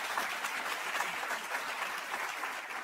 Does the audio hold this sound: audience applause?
yes